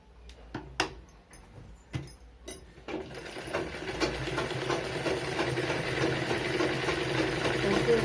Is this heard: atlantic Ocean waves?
no